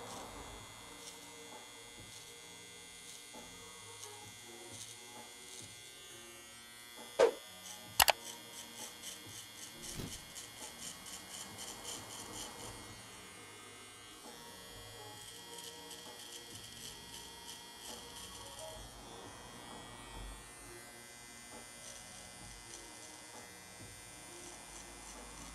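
A Gama Cyborg hair clipper buzzes steadily while cutting hair for a mohawk fade, a close electric hum that runs the whole time, broken by a couple of sharp louder bursts early on.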